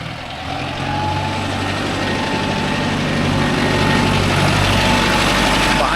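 A Mahindra Arjun Novo 605 DI tractor engine idles loud and close, a steady diesel rumble with constant low thrum that grows slightly louder toward the end.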